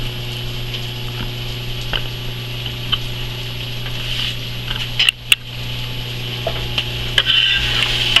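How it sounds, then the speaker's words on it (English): Prosciutto and black olives stirred constantly in a frying pan, giving a steady low sizzle under a constant kitchen hum, with a few sharp clinks and scrapes of the utensil against the pan. "And you're gonna stir this constantly."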